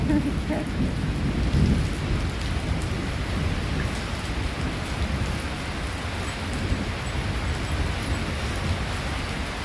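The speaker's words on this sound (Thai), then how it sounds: "เสียงฟ้าก็เยอะ" Heavy rain pours steadily with a dense, constant hiss during a flood, while low rumbles of thunder roll underneath throughout.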